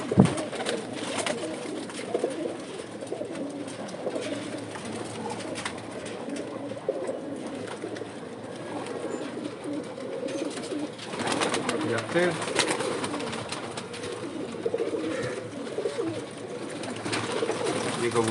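Cooing from pigeons kept by a rooftop fancier fills the background as a soft, continuous low burble, with someone talking over it throughout.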